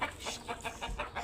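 Hens clucking at a home in a rural yard, a run of short repeated clucks in a steady rhythm at close range with nothing else over them.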